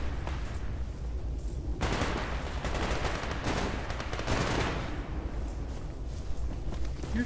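Gunfire in the video game S.T.A.L.K.E.R. Anomaly GAMMA, rapid automatic bursts crackling in the middle of the stretch with quieter scattered shots before and after, moderately loud.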